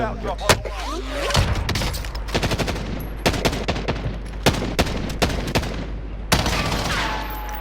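Rapid gunfire in Call of Duty: Warzone on Rebirth Island, with bursts of sharp, loud shots and automatic volleys spread across the clip over a steady background hum, with speech-like sounds and brief tonal effects mixed in.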